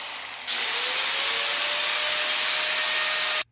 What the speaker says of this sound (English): This grinder rotates at over 11 RPMs, so it might be just so fast it blows the plastic apart.